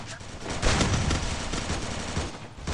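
Sustained automatic gunfire roars in a mobile shooting game, a dense, continuous barrage of shots that stays loud throughout.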